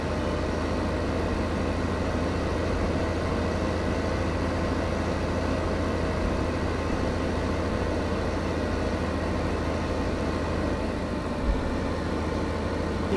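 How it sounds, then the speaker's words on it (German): Tractor engine idling in the farming game Farming Simulator 15, a steady low drone held evenly throughout with no change in pace and no voices. "Stefan, stell den Traktor mal wieder weg."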